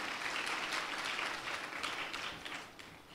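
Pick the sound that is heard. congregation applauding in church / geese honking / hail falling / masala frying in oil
congregation applauding in church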